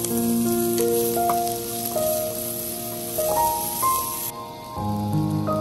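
Capsicum and green chillies fry in a pan while being stirred, giving a continuous crackling sizzle with faint scraping of the spatula, steady and close throughout.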